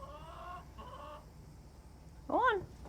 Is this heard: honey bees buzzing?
no